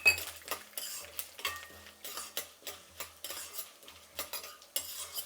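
Fenugreek seeds, urad dal and chana dal frying in oil in a pan for Karnataka-style wedding sambar, stirred steadily so the spoon scrapes in a quick, even rhythm over a faint sizzle.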